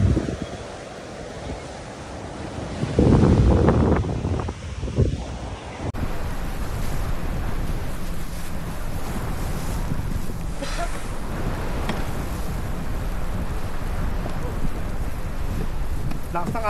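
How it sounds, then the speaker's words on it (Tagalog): Strong wind buffets the microphone in a steady roar at sea beside a fishing kayak, with waves washing underneath; a brief louder gust rises early, then a constant blustery rush continues. "Malakas ang hangin."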